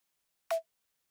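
Layered snare sample combining a clap layer carrying the high end with a short tonal layer, struck once as a single crisp hit that decays quickly, isolated with silence around it.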